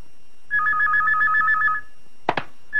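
A telephone trills in a fast electronic warble for over a second, loud and close, followed by a couple of sharp clatters as the handset is picked up.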